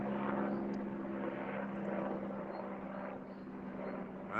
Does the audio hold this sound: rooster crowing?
no